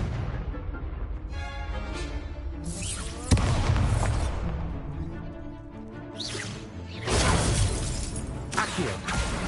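Confringo, a fire-blast spell in the video game Hogwarts Legacy, bursts in a sharp explosive crack followed by shattering debris and rumbling booms, with a second loud blast several seconds later.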